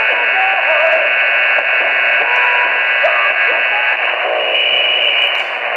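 Narrow, tinny AM radio broadcast with a constant hiss, carrying a voice or program audio with faint whistling tones drifting underneath.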